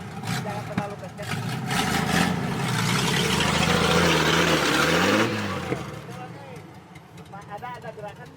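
An off-road car engine stuck in a river revs up and holds a loud, rising roar for several seconds, then eases off; voices talk over it.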